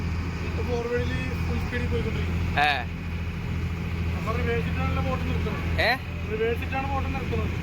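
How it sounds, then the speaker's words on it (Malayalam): A passenger ferry boat's engine runs as a steady, loud low drone with a constant hum throughout, while people talk over it close by. "ബോട്ടിന്റെ എഞ്ചിൻ കൺട്രോളിങ് ഇവിടെ നിന്നാണല്ലേ?"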